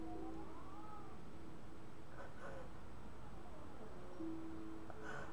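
A low, drawn-out cat growl rises and falls in warbling tones against a quiet hissing background, with a brief higher yowl.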